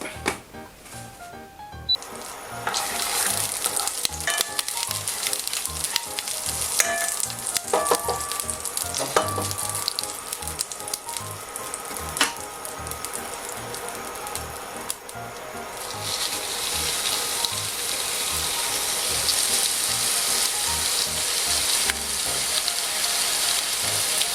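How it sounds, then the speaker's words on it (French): Veal paupiettes sear in a hot pan, a loud continuous sizzle that swells as the meat is turned, with scraping and utensil clicks over it, no talking. "maintenant on va faire revenir légèrement la viande de tous les côtés"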